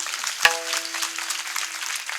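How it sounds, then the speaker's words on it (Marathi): An audience claps at a devotional kirtan gathering, a dense patter of hands that carries on evenly for a couple of seconds. Near the start a single drum strike rings out with a sustained tone. "टाळी वाजवून दे."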